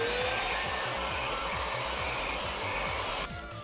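An Iris Ohyama rinser cleaner works over a car's driver-side seat, giving a loud, steady motor whine with a rapid, rhythmic low sputter from the suction underneath, heard close up without talk.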